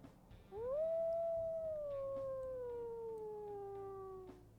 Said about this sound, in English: We'll go ahead and listen to her howl as well.